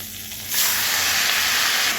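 Greens hit hot oil in a kadai already seasoned with nigella seeds, garlic and green chilli. A loud, steady sizzle and hiss bursts in suddenly and holds close and continuous.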